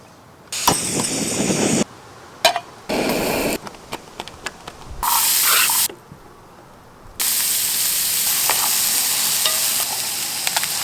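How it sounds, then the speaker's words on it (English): Breakfast fries on a camping stove in a compact two-person camp kitchen kit, with loud bursts of sizzling and stirring broken by short silent gaps, and a long sustained sizzle toward the end. "let's cook some breakfast."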